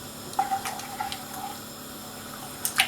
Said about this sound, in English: I'm also going to put half a can of boiling water to make some stock